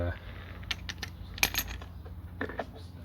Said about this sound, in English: Take the bolt off most of the way. 10mm with an extension bar on it